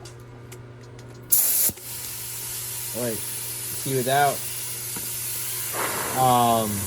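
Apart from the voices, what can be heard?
hot air plastic welder blowing air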